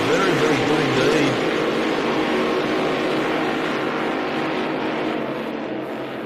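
A racing motorboat speeds past at a St George Motorboat Club race meeting, its loud, broad engine roar strongest at first and then easing slightly as the boat pulls away.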